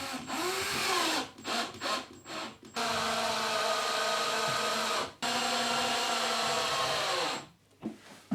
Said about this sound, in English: Now I'm just going to use some tiny screws.